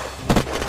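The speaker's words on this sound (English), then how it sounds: "Shots, guys." Gunfire in the survival game Unturned during a military base siege: a couple of sharp, loud reports punch out of a quiet start, spaced apart, with no talk over them.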